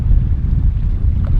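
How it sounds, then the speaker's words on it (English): Steady low wind buffeting a microphone outdoors by a lake in Woodland Caribou Provincial Park, a constant rumbling roar with no voices. "it's quite windy out"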